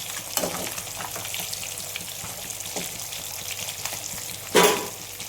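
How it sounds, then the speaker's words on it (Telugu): Fish, skinned and with heads removed, sizzle steadily in a frying pan, a continuous close crackle with brief louder pops and one sharp burst of spitting oil near the end. "నేను ఇక్కడ చేపలు వేయించుకున్నాను చూడండి"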